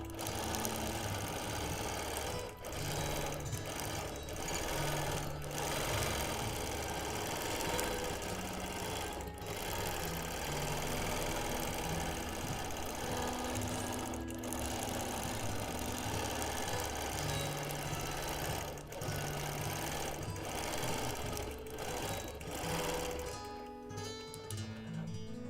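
A sewing machine free-motion quilts a Quilt of Valor in a continuous, close, humming clatter with brief momentary dips in speed.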